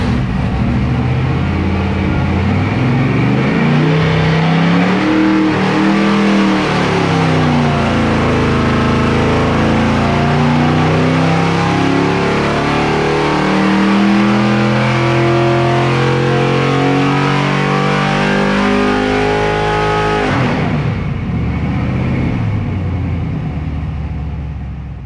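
A big-block LS6 454 V8 engine revs hard under load on a dyno, its loud roar climbing steadily in pitch over many seconds before abruptly dropping off near the end.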